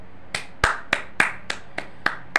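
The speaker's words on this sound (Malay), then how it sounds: "memang kita bagi tepukan lah" A few people clap slowly in honour of a sold-out Indonesia versus Australia football match, about seven separate crisp claps spaced evenly and fairly close, with no talking.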